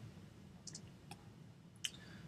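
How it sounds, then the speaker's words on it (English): A few sharp, quiet clicks from pressing the delete key on a computer keyboard, isolated taps spread over a couple of seconds against low room hum. "to delete it, I press the delete key on the keyboard"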